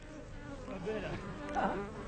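Bees buzz steadily and close by, a continuous insect drone that rises briefly in loudness near the end, with no talking.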